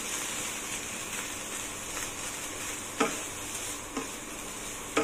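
Cooked rice stirred and fried in a pan for Filipino sinangag garlic rice, a steady soft sizzle with a few sharp scraping clicks of the spatula against the pan at intervals.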